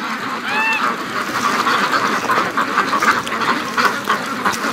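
Free-range Muscovy ducks gathered at a partly frozen lake keep up a continuous, busy stream of quacking, close and fairly loud, with a brief high whistling note early on.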